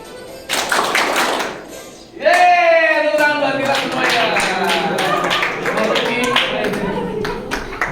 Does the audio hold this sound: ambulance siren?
no